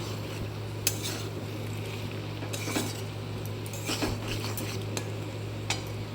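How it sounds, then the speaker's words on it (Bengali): Kochur loti (taro stolons) being stirred in a wok with a utensil and fried without water: sparse scraping clinks and taps over a constant low electrical hum and faint sizzle. "এবার আমি কড়াটা খুলে এটাকে ভালো করে নেড়ে নেব"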